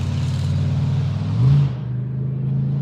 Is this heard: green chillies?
no